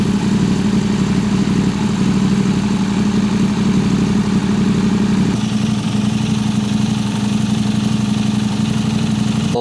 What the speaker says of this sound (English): So I let the engine run until hot